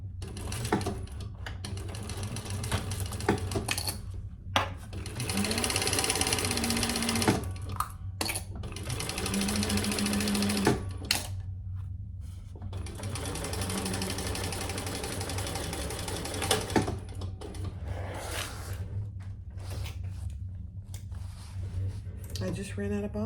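A sewing machine stitches seams on a large crossbody sling bag in several bursts of steady whirring, with brief pauses between runs, close and moderately loud beneath a low background hum.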